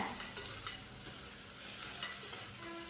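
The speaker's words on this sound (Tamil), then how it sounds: "வெங்காயம் லைட்டாக கலர் மாதிரி வரணும் அது வரைக்கும் நம்ம வதக்கி எடுத்துக்கலாம்" Small onions sautéing in a pan, a faint, even hiss of frying with soft stirring scrapes throughout, no voices.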